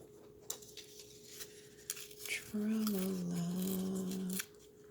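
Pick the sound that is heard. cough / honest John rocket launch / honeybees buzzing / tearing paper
tearing paper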